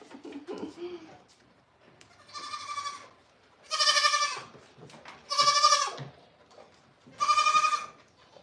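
Goats in a barn on a goat farm bleat loudly and nearby in four drawn-out, wavering cries, the last three strongest, with a few brief murmurs and small noises between them.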